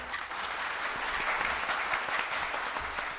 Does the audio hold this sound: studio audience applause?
yes